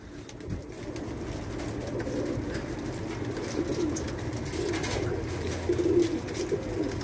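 Soft domestic pigeon cooing repeats through the clip over a low steady rumble, the calls close and moderately loud.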